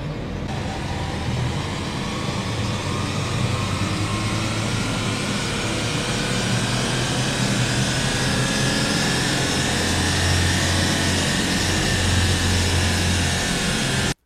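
A Peugeot 308 1.6 engine runs on a dynamometer test bench, a loud, steady, droning roar that holds constant throughout with a low rumbling undertone.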